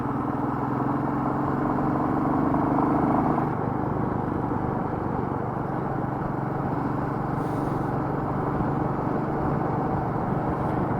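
A Royal Enfield Meteor 350 motorcycle rides narrow Norfolk country lanes in sunshine, giving a continuous close engine rumble mixed with wind noise, loud and steady throughout.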